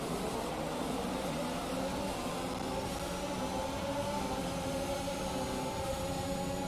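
F1 car engine in the video game F1 2021 racing at Bahrain, a continuous loud droning hum with steady harmonic tones filling the whole stretch, no speech.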